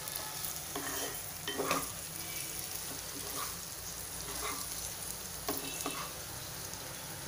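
Okra bhindi masala being stirred in a frying pan, with a steady background sizzle and a few brief spoon scrapes and clinks recurring through the stirring, heard up close with no one talking.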